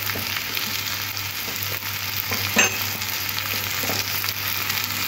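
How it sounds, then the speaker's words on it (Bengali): Drumstick vegetables frying in a pan for a katla fish curry, producing a steady close sizzle with soft stirring scrapes and a low constant hum underneath. "সবজিগুলো খুব সুন্দর করে ভেজে নিয়েছি"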